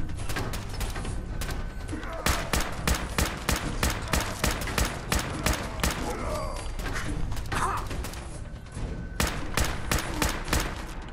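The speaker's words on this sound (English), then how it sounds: "this is close range shotgun" Close-range shotgun blasts in the video game Fallout 4, a dense run of loud, sharp booming shots fired in quick succession over about eleven seconds, with heavy low thumps and rattling impacts between them.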